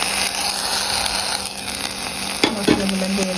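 Spices tipped into a hot pot of khichuri with lentils, a steady sizzling hiss of frying throughout, then a couple of scraping stir clatters near the end; no one speaks.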